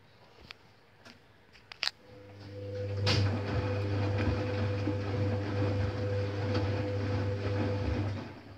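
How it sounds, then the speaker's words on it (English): A Candy Autosprint washing machine drains after a few faint clicks and knocks, its pump settling into a steady low hum with a whine above it that runs unbroken for several seconds. "It's gonna start draining immediately."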